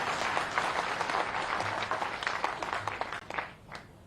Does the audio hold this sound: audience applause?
yes